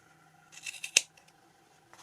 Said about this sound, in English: Now I have to cut over the other side